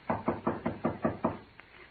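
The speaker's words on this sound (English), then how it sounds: "Shall I knock now?" A radio-drama door knock: six or seven firm, evenly spaced raps on a wooden door, close and clear, with no voices over them.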